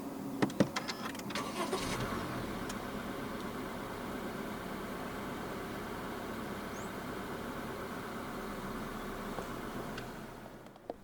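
A 2023 Honda City 1.5 S starts with a push-button start: a brief starter whir near the beginning, then a steady, quiet idle hum continuing until it fades at the end.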